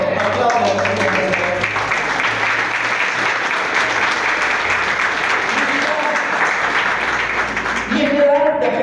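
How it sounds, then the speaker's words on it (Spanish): A church congregation applauds steadily and loudly for several seconds, a dense wash of clapping with voices calling out beneath it. "Aplausos al Señor."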